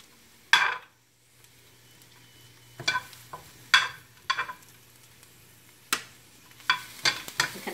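Garlic leaves and green onion roasting in a pan, with intermittent sharp scraping and stirring bursts over a faint steady hum, separated by brief quiet gaps.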